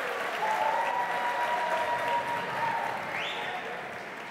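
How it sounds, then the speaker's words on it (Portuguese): An audience applauds at the awards ceremony of the 11th Nativist Festival in Brazil, a sustained, even round of clapping from a crowd with a faint tone drifting over it, heard steadily from start to finish. "Salva de palmas, senhoras e senhores."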